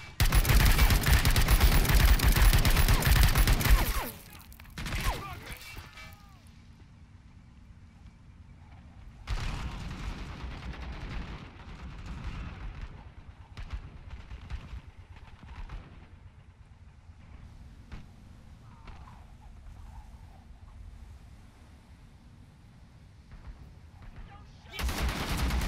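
Heavy gunfire in a Call to Arms video game battle, loud sustained bursts at the start and again later, with scattered shots and distant rattling between them.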